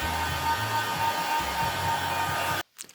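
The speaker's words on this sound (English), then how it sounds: "just take a blow dryer to the damn thing." A blow dryer runs steadily at close range, drying paint on a handmade purse, then cuts off abruptly near the end, leaving a few brief faint handling noises.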